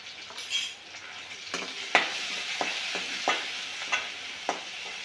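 Cumin, chili, garlic, turmeric and asafoetida fry in hot oil for a tempering, giving a steady close sizzle broken by several sharp stirring scrapes and clicks of a spoon against the pan.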